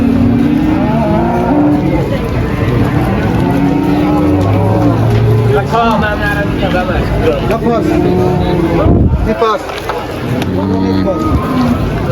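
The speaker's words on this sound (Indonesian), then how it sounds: "Nah sapinya juga banyak pada pagi hari ini" Cattle at the busy Muntilan livestock market moo repeatedly over loud crowd chatter and people talking nearby, with several drawn-out lowing calls overlapping the steady market din.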